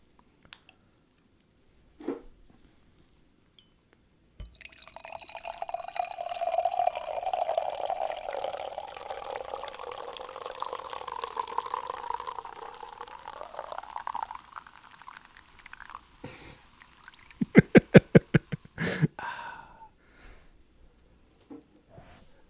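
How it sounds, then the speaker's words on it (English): Jack Daniels Southern Peach country cocktail poured in one long, steady stream lasting several seconds, a close liquid gurgle, ending in a burst of sharp clicks and clinks. "That's a long pour."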